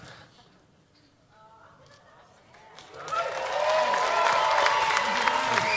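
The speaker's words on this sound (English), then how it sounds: "Give them another big round of applause." An audience breaks into applause and cheering after a quiet stretch of faint sounds, the clapping swelling suddenly to a loud, sustained crowd ovation.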